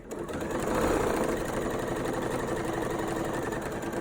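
A sewing machine stitches through layers of a tote bag in a steady, rapid mechanical whir, close and continuous for a few seconds without speech.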